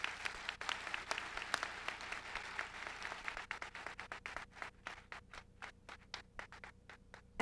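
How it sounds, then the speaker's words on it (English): An audience at a university commencement claps for the platform party, a dense wash of applause that thins into scattered individual claps toward the end. "Please give them all a round of applause."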